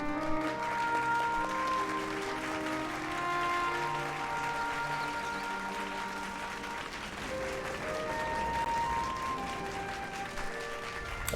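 A crowd claps steadily in the video game Final Fantasy XIV, a dense, sustained applause lasting the whole stretch, layered over a melodic musical score with no pauses.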